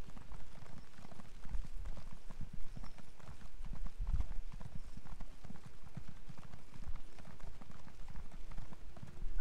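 Horse hooves gallop in the Elder Scrolls Online video game, a fast, continuous clip-clop of repeated hoofbeats at moderate loudness with no voices on top.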